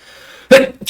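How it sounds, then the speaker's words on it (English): A single sudden sneeze bursts out close up after a quiet, faint hum, followed by a short breathy catch as it trails off. "Okay, I'm about to sneeze."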